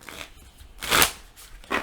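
Playing cards being shuffled loudly and close up in a few quick riffling bursts, the strongest in the middle, with no one talking over them.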